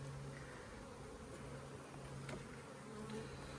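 A swarm of honey bees caught in a trap, giving a steady, even buzz that stays soft and continuous throughout.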